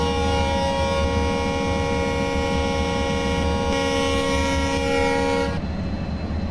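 The horn of a WDG4 diesel locomotive in Train Simulator 2023, heard during yard shunting duty, sounds one long, steady, multi-tone blast for about five and a half seconds before cutting off abruptly over a low engine rumble.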